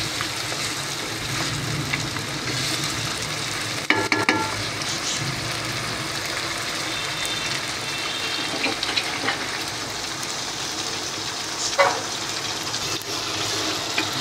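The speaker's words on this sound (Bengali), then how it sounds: "এখন মশলার সাথে মাংসটাকে আমি ভালো করে কষিয়ে নেব।" Small cubes of meat are stir-fried with spices for khichuri, making a steady close sizzle broken by occasional scrapes and clinks from stirring.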